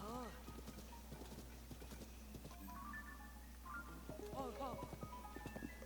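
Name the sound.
horse galloping in video game Zelda Tears of the Kingdom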